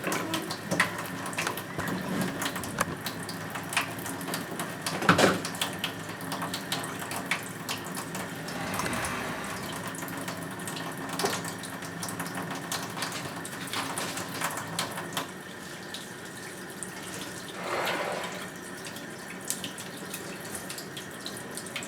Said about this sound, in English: Jaden, wash your hand.